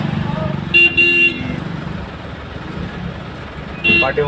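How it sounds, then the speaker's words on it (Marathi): Two sharp vehicle horn blasts, one doubled and one short, sound over idling engine rumble in a street jam where a tanker blocks the lane near cement road works; a voice talks in between. "गाड्या वाजत वाजत आहे"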